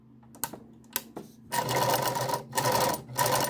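A Meister 173 sewing machine gives a few separate mechanical clicks and knocks, then runs in a loud, steady, close whir with brief pauses between bursts. No one speaks.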